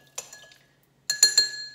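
A low-carb muddled cocktail is stirred in a glass, giving a bright ringing clink, a short pause, then three quick close clinks of spoon against glass, with a sustained glassy tone between strikes.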